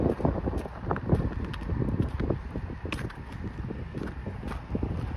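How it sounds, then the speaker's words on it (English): Steady Arctic wind buffeting the microphone outdoors on a snowy Toronto street, with rough gusty rumble and scattered rustling, no voices. "it's getting a little windy out"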